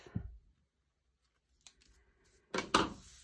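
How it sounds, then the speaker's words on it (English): Scissors trim the ends off paper border pieces, making a few crisp snips and a short rustling cut, quiet and close with silent gaps between. "So I'm just going to punch these or cut these ends off"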